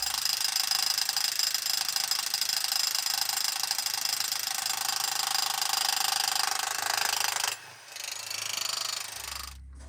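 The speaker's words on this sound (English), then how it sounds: "I'm going to get the big jackhammer to see if I can break open some of these holes." A big jackhammer breaks rock inside a tunnel, a loud, steady rapid hammering that runs for about eight seconds, then stops with a brief break and short resumed bursts.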